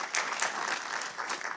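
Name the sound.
audience applause for a panel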